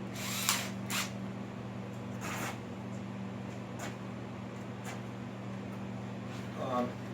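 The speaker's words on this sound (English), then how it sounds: "So if I just drill that about a 1/2 inch in" An electric drill hums steadily with a constant motor whine, punctuated by brief bursts and clicks as it bites about half an inch into wood, close by, while building barn door hangers.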